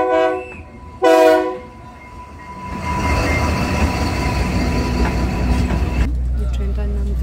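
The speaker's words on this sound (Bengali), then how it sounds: "আমাদের ট্রেন আসছে" A Vistadome train pulls into a station in Peru near Machu Picchu, with a loud horn blast, then a rising rumble and clatter of wheels and carriages rolling close past.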